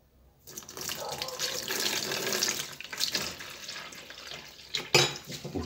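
Tap water pours steadily into a container to prepare a rooting solution with sugar for guava cuttings, a continuous splashing stream for several seconds ending with a brief clatter, with someone talking over it.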